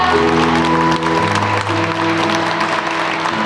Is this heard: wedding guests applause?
yes